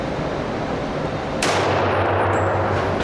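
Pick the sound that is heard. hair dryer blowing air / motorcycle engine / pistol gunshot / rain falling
pistol gunshot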